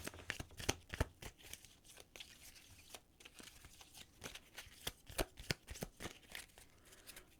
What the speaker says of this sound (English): So, we reshuffle the cards.